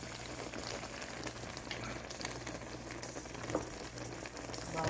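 Spinach and potato curry (aloo palak) frying with coriander powder and spices in a pan, a steady dense sizzling and bubbling that runs throughout at a moderate level, with no talk.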